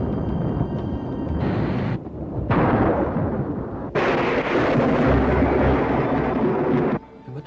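Loud, broadband rumbling thunder bursts from a lightning strike fill most of the clip as a film sound effect, with a brief dip and a sharp renewed crash midway, and no voices.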